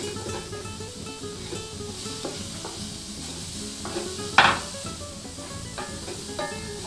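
A spoon stirs onions around in a hot pan, with steady close sizzling and scraping, one sharp clink of metal midway and a few lighter knocks.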